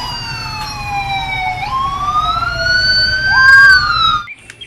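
A toy Sabara police car siren wails in continuous rising and falling electronic sweeps, loud and close, cutting off abruptly near the end.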